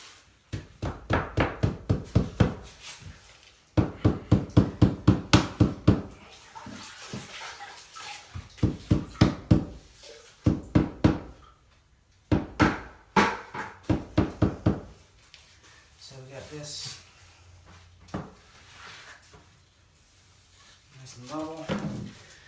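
Sharp, rapid tapping in quick bursts from a hammer striking repeatedly while laying a shower floor mud bed, pausing between runs, close and fairly loud.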